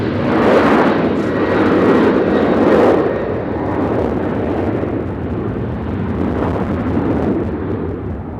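A Southwest airliner taking off at Nashville International Airport, bound for Seattle, produces a loud sustained jet engine roar that swells early and stays steady for several seconds, heard in the open with no talk.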